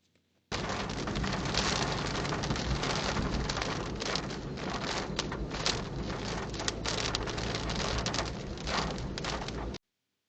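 Steady rain drumming on a car while driving, picked up by a Qubo Smart Dashcam Pro 4K, a dense continuous hiss of drops that starts abruptly and runs for about nine seconds before cutting off.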